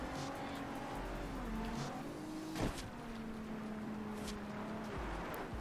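A car engine in Forza Horizon 2 drones and revs steadily with shifting pitch, with a brief crash or scrape in the middle, loud and continuous with no talk.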